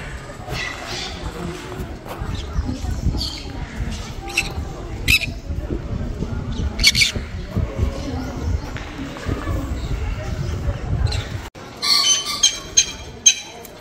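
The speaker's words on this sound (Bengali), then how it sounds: "প্রচুর পাখি এদিক ওদিক রয়েছে।" Scattered, brief chirps and calls from many birds at a bird zoo near Pelling rise over a busy background of people talking and moving about.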